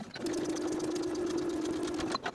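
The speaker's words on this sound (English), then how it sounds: "we can top stitch the top of that pocket flap in place" A sewing machine top stitches a pocket flap on a pinafore dress, a steady, fast whirring run of about two seconds that stops abruptly near the end.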